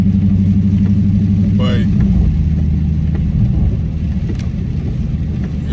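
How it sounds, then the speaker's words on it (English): A Dodge Hellcat on 305/30 ZR20 Pirelli P Zero tires accelerating in 707 track mode on a wet road, a loud close engine roar rising in pitch, with someone talking over it. "I'm trying to get maximum grip when I do hit the gas, when it's in full 707 track mode."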